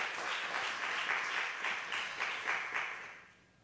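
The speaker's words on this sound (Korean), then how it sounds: "격려한 마음을 한 번 더 뜨겁게 박수하겠습니다." A church congregation claps together, steady rhythmic applause with regular pulses, fairly loud and close, fading out near the end with no talk over it.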